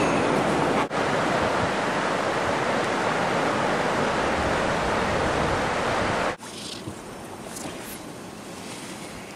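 River water rushes steadily on a calmer stretch of a Patagonian rafting trip, a loud, continuous wash that drops slightly in level near the end, with no voices.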